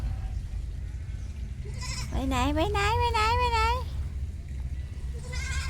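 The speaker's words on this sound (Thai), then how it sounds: "ดูน้องแพะ น้องแพะมา" Goat bleating on a grassy lawn in a garden near a small zoo on the road to Cha-am, one long wavering bleat standing out clearly, with someone talking before and after it.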